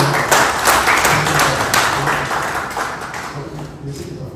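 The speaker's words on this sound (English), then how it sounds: "I want to request a round of applause for the ESA" Audience applause at a government ceremony launching an agriculture project, a steady wash of clapping that fades slightly toward the end, with faint murmuring underneath.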